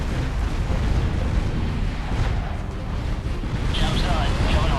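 Explosions from a space strike in a real-time strategy game, a dense continuous roar of booming blasts with crackling bursts, loud and sustained throughout.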